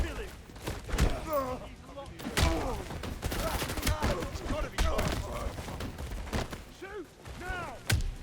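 Gunfire from SAS soldiers in the video game 007: First Light, several sharp shots and bursts scattered through a busy mix, with voices calling out and chirpy effects over the shooting.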